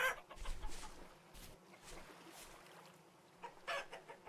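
A dappled hen panics in the survival game Vintage Story, with several quick, faint clucks and squawks scattered over a quiet background.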